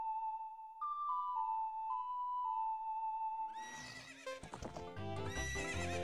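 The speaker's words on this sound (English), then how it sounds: "Okay, get on the horse, Link." In Zelda: Ocarina of Time, a short melody on the ocarina is followed by the horse Epona, who gives a loud, bright whinny and then a quick run of clip-clopping hooves, with no talk.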